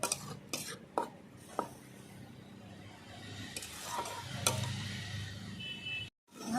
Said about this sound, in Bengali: ভালো করে আমি কষিয়ে নেব